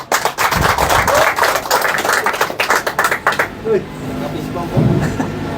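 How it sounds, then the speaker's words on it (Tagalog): Audience members at a congratulations gathering clap in a brief burst of sharp, uneven hand claps that thin out into scattered claps and quiet room noise, with some voices in the background. "Oh, palakpak."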